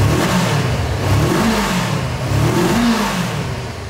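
A two-cylinder motorcycle engine at a dealership revs up and down in slow swells, a loud, close, throaty rumble rising and falling about three times with no talk.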